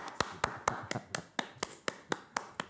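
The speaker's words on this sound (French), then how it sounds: "on peut applaudir Pablo parce que franchement c'est pas facile de venir s'exprimer devant tout le monde" A small group claps for Pablo in a steady run of about a dozen distinct, evenly spaced claps, close and moderately loud, with no talking over them.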